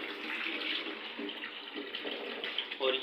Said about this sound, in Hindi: थोड़ी देर नलका चला के